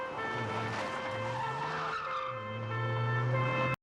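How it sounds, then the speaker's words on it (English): Squad car tyres screech in a long, loud skid during a police pursuit scene from The Sweeney, with an engine revving underneath and a second squeal swelling near the end before an abrupt cut. "A squad car is in pursuit of Tolman."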